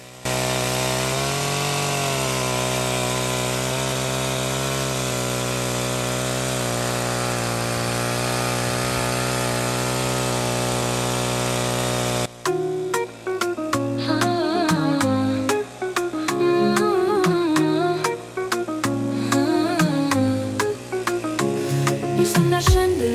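A chainsaw drones at a steady high pitch, then begins cutting in a village, its engine sputtering and revving unevenly with sharp crackles as it bites into wood.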